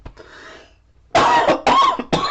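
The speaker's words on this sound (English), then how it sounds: "I'm coughing a lot." A person coughs during a live painting session: a soft throat sound first, then three loud, close, harsh coughs in quick succession.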